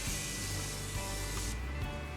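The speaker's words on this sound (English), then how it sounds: "The first one is the Morphe Continuous Setting Mist. I really like this because look at this mist." A Morphe Continuous Setting Mist in an aluminum can sprays a fine, soft continuous hiss close by, lasting most of the moment before trailing off with a couple of short puffs at the end.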